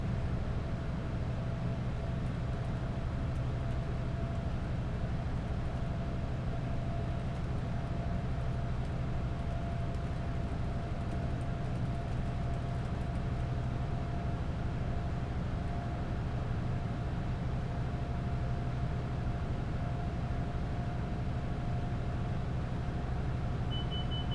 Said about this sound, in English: MTU engine. You can hear the difference as it rumbles past